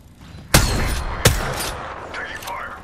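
Gunfire in the video game Apex Legends: two sharp, loud shots about a second apart over a busy game mix, followed by fainter whooshing effects.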